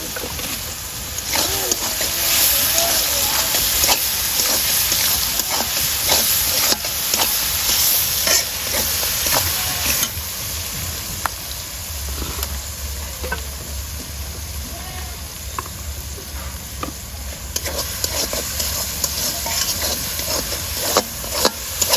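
Onions sizzle loudly in a hot pan as part of a beef bhuna being cooked, with a constant frying hiss and repeated scraping and stirring strokes throughout.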